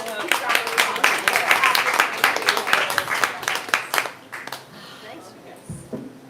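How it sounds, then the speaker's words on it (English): An audience at a feminist publishing panel breaks into warm, dense applause, with many hands clapping briskly before tapering off into a few scattered claps and murmurs. "let's just give these all another round of applause"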